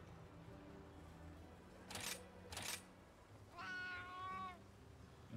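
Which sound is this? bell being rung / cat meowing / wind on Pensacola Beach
cat meowing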